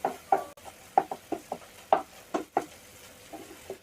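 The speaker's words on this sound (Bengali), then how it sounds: "তো ডিমটা দেওয়ার পরে একটু নেড়ে চেড়ে দিতে হবে, আর ডিমটা কিমা কিমা করে নিতে হবে" Egg is stirred and broken into crumbles in a frying pan, a spatula scraping and tapping in quick irregular strokes over a soft sizzle, close and clear, with no talk.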